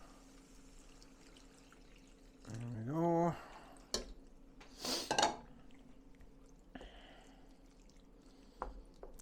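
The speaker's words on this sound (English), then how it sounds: "I'm going to pour in the rest of the beef stock." Beef stock for a traditional Scottish steak pie pours into a pan, a short liquid splash with some clatter of cookware, followed by a brief spoken remark.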